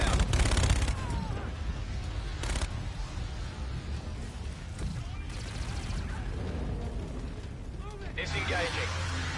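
Video game gunfire from a PS4 session, bursts of shots and blasts cracking out loud at the start and around two and a half seconds, with rumbling battle noise underneath and a voice speaking throughout.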